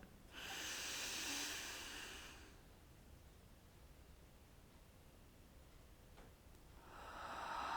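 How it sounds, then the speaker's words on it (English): Two slow, deep breaths: a long airy exhale at the start, a quiet pause, then another breath beginning near the end, close and unvoiced. "listening to your breathing in and your breathing out"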